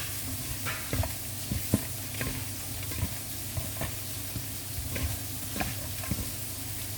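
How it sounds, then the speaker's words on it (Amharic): Food being mixed by hand with salt and spice for a pink cream macaroni dish: soft, steady stirring and squelching in a bowl, with a run of small sharp clicks and taps spread through the whole stretch. "ከዛ ጫው ትንሽ እያርጌ ይሄን እንዲህ በደንብ አዋህደዋለሁ ማለት ነው።"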